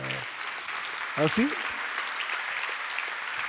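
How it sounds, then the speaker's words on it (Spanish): A church congregation applauds, a steady broad patter of clapping throughout, with a voice briefly speaking near the start. "Dale un aplauso al Señor, hermano"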